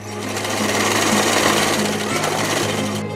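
A sewing machine stitches a cordel booklet in a printmaker's workshop, running as a loud, steady continuous whir with a rapid mechanical rattle throughout.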